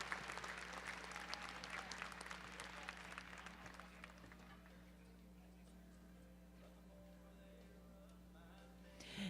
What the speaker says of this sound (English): Give them all a nice round of applause.